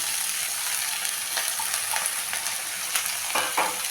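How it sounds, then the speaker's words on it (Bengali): Spring onion stalks go into a pan where sliced onion and slit green chillies are already frying. A steady, close sizzle runs throughout, broken by occasional soft stirring scrapes. "এখন আমি এটার মধ্যে পেঁয়াজ কলিগুলো দিয়ে দিলাম,"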